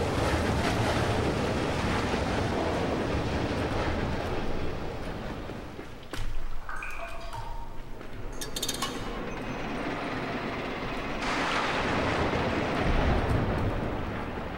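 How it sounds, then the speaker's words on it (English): Water rushing in and flooding a room in the dark side-scrolling game Limbo: a steady, loud hiss and churn of pouring water that briefly dips, then surges again, with faint mechanical clunks. "it's gonna start filling up with water and kill me"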